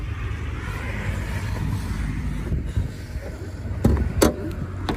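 The heavy hood of a Hyundai Creta SX 1.4L turbo is opened nearby, with a few clunks and a short metallic rattle over a steady background rumble.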